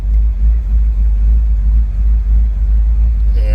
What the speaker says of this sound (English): Or she may just surprise us and fire right up.